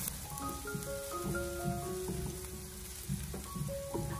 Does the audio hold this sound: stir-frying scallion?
yes